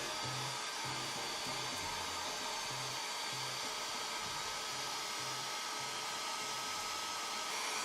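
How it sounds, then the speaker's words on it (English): A hair dryer blows steadily throughout with a constant airy roar while heating a sticker to loosen its glue, and faint low thumps and knocks sound underneath. "Once it gets a bit like hard to pull, just hair dryer it again."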